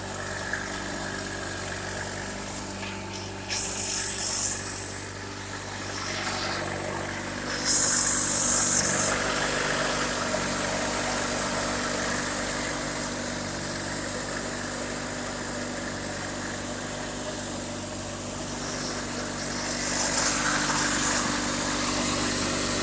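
A Honda 4514 lawn tractor engine running steadily at a low idle with a constant mid-pitched hum and a few brief rises in intensity, heard up close with no talking.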